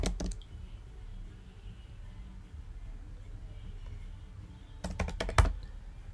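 Quick bursts of clicky keystrokes on a computer keyboard as a project name is typed: a short flurry at the start, a quiet pause, then another rapid cluster near the end, close and fairly faint.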